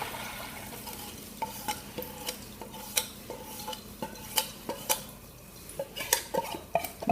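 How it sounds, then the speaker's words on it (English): Cold condensed milk tipped into a hot fudge mixture in a pan and stirred, giving repeated spoon scrapes and clinks against the pot with a faint soft sizzle underneath, close and fairly quiet. "Because we're adding a cold mixture to a hot, that's why it's just made that slow sound there"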